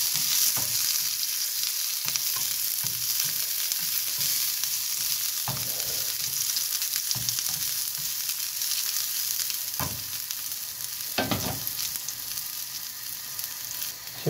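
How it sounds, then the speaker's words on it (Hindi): Capsicum (bell pepper) fries in oil in a pan while a salami potato roti roll is being made. A steady, close sizzle runs throughout, with occasional soft stirring knocks. "और इसमें हम शिमला मिर्च फ्राई करूँगा, शिमला मिर्च फ्राई करूँगा थोड़ी।"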